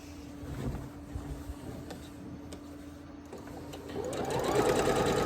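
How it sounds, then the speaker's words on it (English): A sewing machine hums steadily, then speeds up into a louder, faster whirring toward the end, close by with no talking. "The sound of a sewing machine, the sound of the iron, the sound of the snips."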